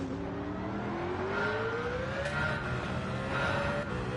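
A Honda car's engine in the racing game Gran Turismo 7 hums steadily while its pitch slowly climbs and then eases, a quiet continuous drone with no talking.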